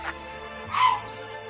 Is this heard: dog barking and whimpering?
yes